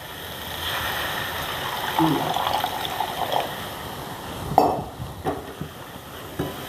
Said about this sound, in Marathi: थोडंसं पाणी टाकून घेऊया आपण त्याच्यात शिजण्यासाठी